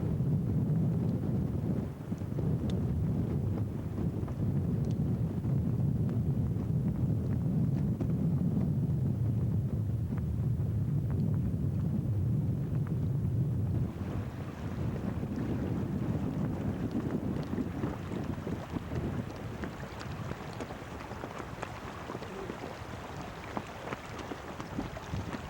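Wind gusting outdoors on a Quoich River boating trip in August, a steady low rumble buffeting the microphone, easing somewhat partway through with faint crackles.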